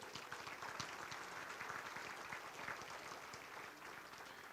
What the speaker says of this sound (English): a nice round of applause for Ron